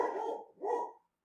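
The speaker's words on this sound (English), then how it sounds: "I hate that my dogs are barking right now." Dogs bark indoors in two close, loud bursts, one right after the other, then stop.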